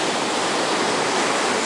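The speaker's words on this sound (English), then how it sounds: "this is a pretty cool action shot right here of some waves when they do come" Ocean waves surge through a rock archway on the beach at Playa Zipolite, a loud, continuous roaring wash of water that fills the whole moment without letup.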